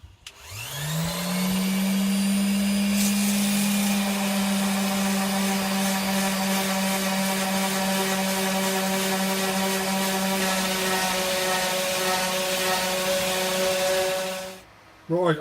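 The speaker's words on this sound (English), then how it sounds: "Touch that up with sandpaper, with the sander, it'll be fine. So that's the next job. Sand this so we've got some square sides" A power sander works wood for an arcade cabinet, spinning up and holding a loud, steady whining drone for about fourteen seconds before winding down at the end, with no talking over it.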